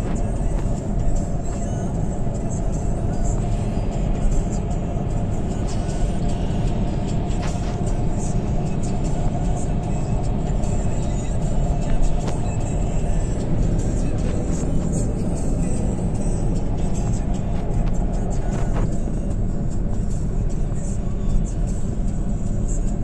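Steady car engine and road noise from inside a moving car on a cold, rainy outing with children aboard, a constant broadband rumble running unbroken throughout with faint voices now and then beneath it.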